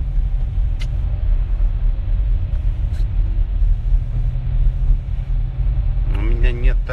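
Steady low engine rumble fills a borrowed car while driving, a constant drone with road noise; a voice briefly speaks near the end.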